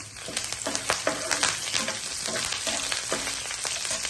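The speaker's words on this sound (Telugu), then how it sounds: "నూనె వేడెక్కిన తర్వాత నాలుగైదు వెల్లుల్లిపాయలు పచ్చి శనగపప్పు కొద్దిగా కొద్దిగా మినపప్పు కొద్దిగా జీలకర్ర కొద్దిగా ఆవాలి" Garlic, chana dal, urad dal, cumin and mustard seeds crackle and sizzle in hot oil, with quick popping bursts over a steady frying hiss.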